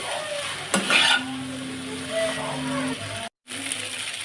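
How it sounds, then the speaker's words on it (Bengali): Egg chowmein tossed with vegetables and spices in a pan, with steady sizzling and scraping stirs, a louder burst of clatter near the start and a brief dropout late on. "মশলাটা দেওয়ার পরে চাউমিনটাকে আমি দিয়ে ভালোভাবে সবজিগুলোর সাথে মশলার সাথে মিশিয়ে নিব"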